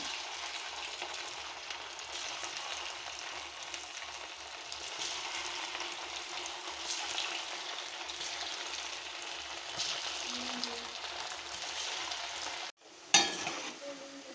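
Poha pakoda frying in hot oil, a steady close sizzle with gentle stirring for a long stretch, ending in a brief clatter near the end.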